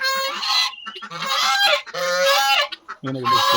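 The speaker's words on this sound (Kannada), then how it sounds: "ಬಾತು ಕೋಳಿಗಳು, ಟರ್ಕಿ, ಬೆಂಕಿ ಕೋಳಿ 2 ಅಲ್ಕೋತವೆ" Loud, repeated honking calls from nearby ducks and turkeys at a resort, several overlapping harsh cries in quick succession.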